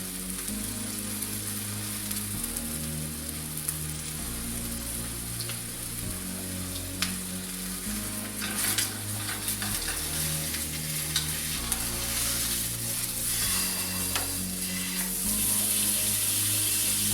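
Steak searing in a hot frying pan gives a steady, loud sizzle and crackle throughout, with a repeating low rumble underneath and no talking.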